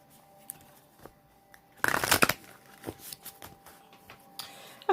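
Tarot cards being shuffled by hand, a few soft taps and then a quick riffling burst near the middle followed by lighter flicks and shuffles, close and fairly quiet.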